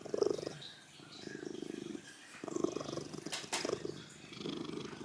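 Loud, steady purring from a cat very close by, rumbling continuously with a rhythmic pulse.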